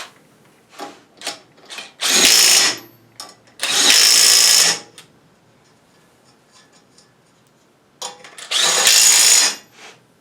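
A power tool runs down the nut on a Dana 44 closed-knuckle disc brake in three loud, close bursts of about a second each, with ratcheting clicks and light metal handling in between.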